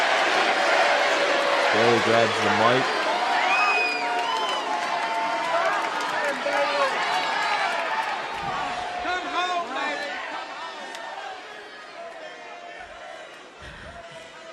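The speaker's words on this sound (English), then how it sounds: "The crowd's hot, they're loving it." A hot wrestling crowd roars and cheers steadily through a Bayley segment, a dense arena wash that stays loud and slowly eases, with a commentator talking over it throughout.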